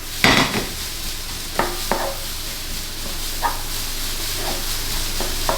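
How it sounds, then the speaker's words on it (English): Singapore fried rice tossed and fried in a hot wok: a steady bright sizzle with intermittent scraping and clanking strokes of the spatula against the metal, close up, no talking. "we're just going to fry this for about 3, maybe 4 minutes before we do anything else"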